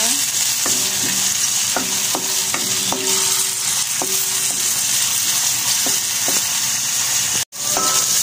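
Food fries loudly in a pan, a constant close sizzle with repeated clanks of a utensil stirring and scraping, briefly cut by a sharp gap near the end.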